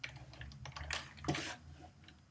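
Computer keyboard keys pressed during digital drawing work, a few scattered soft clicks with one louder clack in the middle, close and alone with no talk.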